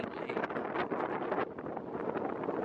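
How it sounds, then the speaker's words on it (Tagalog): Steady, loud wind at Moraine Lake, Alberta, buffeting the microphone with a rough, continuous rumble and gusty surges throughout. "Mahangin kasi."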